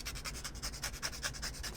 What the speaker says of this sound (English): take a sanding sponge or a file and just sand away